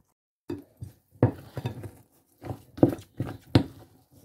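Cake batter with eggs being mixed in a bowl, a string of separate clinks and scrapes of a utensil against the dish with short pauses between strokes, close and fairly quiet.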